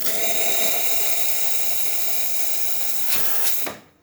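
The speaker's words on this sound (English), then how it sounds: "Nice strong steam." Steam wand on a La Spaziale Lucca espresso machine after a full tune-up hisses loudly and steadily up close, then sputters briefly and cuts off at the end.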